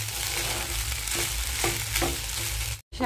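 Mango rice being stir-fried in oil in a pan, with a loud, continuous sizzle and occasional scraping stirs close up, then a brief break.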